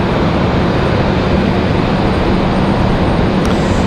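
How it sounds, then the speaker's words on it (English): An ATR turboprop airliner roars steadily and loud, a dense broadband engine and propeller drone holding level throughout with no voices over it. "The ATR."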